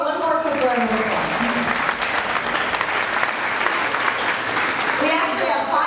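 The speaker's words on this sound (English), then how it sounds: "How about one more quick round of applause?" An audience at a circus horse show gives a round of applause, steady and full, with a voice talking briefly over the start and again as the clapping fades.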